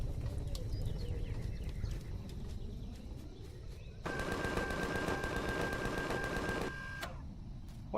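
Rapid automatic gunfire in the video game Empyrion rattles for a few seconds as a dense, fast burst of shots. It cuts off abruptly and sits over a background of low game ambience and scattered clicks.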